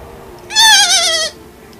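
A man imitates a dolphin with his voice during a co-op session of Shadow of the Colossus, giving one short, high, wavering bleat-like squeal of under a second, close and clear over a low background hum.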